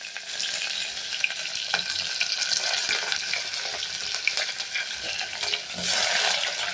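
Sliced medium onions hit hot oil already holding cinnamon sticks and cardamom for a mutton biryani, giving a loud, steady bright sizzle with crackles and an occasional stir; no voices.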